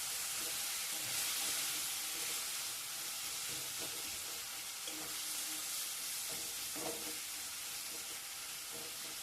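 Spices and masala with salt and a little sugar being stir-fried in a pan, a steady broad sizzle and hiss throughout with occasional soft stirring scrapes, moderately close.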